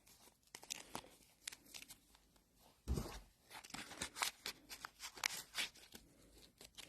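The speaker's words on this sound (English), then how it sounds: "ripping the heat and bond again" HeatnBond fusible web is torn away from fabric in a few quick, close rips and crinkly tearing bursts, separated by quieter gaps, with no voices.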